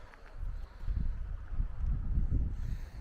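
Wind buffets an outdoor microphone near snowy mountains in Japan, producing low, uneven rumbling gusts that rise and fall throughout.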